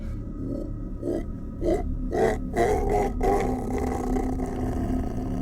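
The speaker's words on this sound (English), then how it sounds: "A sound unlike anything I'd ever heard erupted from the forest, part roar, part scream, but with an almost human quality that chilled my blood" A creature roar-scream from a forest in the Alaskan wilderness, told as a Bigfoot encounter: a series of rising, rasping, roaring bursts repeating roughly every half second, loud and close, with no talk over it.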